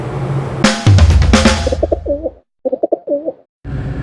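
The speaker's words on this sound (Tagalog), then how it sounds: "meron na naman tayong naiispatan ditong kulay itim na kalapati" Black pigeon cooing in soft repeated bursts, fairly close, with a brief scuffling rustle at the start and quiet gaps between calls.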